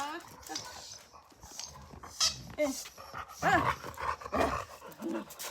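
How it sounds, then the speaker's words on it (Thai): A neighbour's dog barks and whines close by in a home garden, with short bursts of barking mixed in under someone talking. "หมาเพื่อนบ้านจะเห่าเพราะว่าเขาอิจฉาโนล่า"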